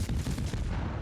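Quick repeated gun blasts from a Mahan destroyer in World of Warships, a fast run of low booming shots one after another, close and heavy, with nothing else over them.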